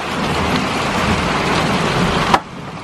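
Heavy rain pours in a steady broadband wash over a windy quarry, loud and close, with a sharp crack near the end before the roar drops away.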